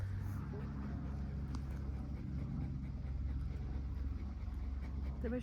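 A dog plays with a chew stick treat close by, panting and giving small whimpers over a low, steady background rumble.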